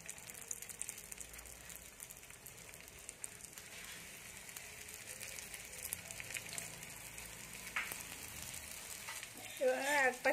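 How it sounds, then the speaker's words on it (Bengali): Snacks frying in hot oil, a soft, steady sizzle and crackle throughout with a brief louder bubbling burst near the end. "এবার ভেজে নেবো একটা একটা করে।"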